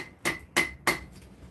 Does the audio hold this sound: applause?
no